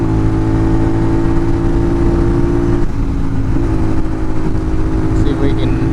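Honda VTR 250 motorcycle pulling hard along a long straight country road, a steady droning engine note that builds under riding wind, with a rider's voice heard talking over it.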